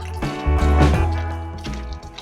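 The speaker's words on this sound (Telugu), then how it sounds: "ఇప్పుడు మనము పక్కన మనం నెయ్యి రాసిన ప్లేట్లోకి పోసుకోవాలి" Thick Karachi halwa mixture is poured from the pan onto a ghee-greased plate, giving soft, close wet slides and drips over about two seconds.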